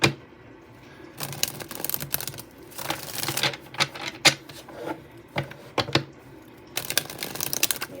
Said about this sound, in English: Let me just shuffle this because I was not planning on using this deck